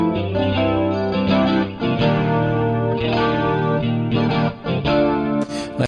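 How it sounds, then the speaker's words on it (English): Electric guitar through an amp emulator with chorus, flanging and added reverb in Reason software, a series of sustained, shimmering chords restruck several times, loud and close, ending abruptly. "And now some reverb."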